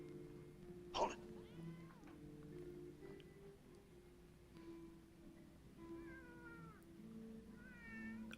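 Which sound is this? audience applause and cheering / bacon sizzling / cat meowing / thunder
cat meowing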